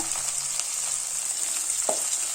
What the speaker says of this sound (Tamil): இதையும் நல்லா தக்காளி மசிகிற அளவுக்கு வதக்கிக்கலாம்.